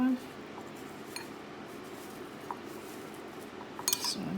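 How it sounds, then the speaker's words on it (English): Coconut being stirred in a bowl for keto coconut shrimp gives soft scraping with a few light utensil clinks against the dish, mostly faint, with a sharper clatter near the end. "So I'm mixing that coconut"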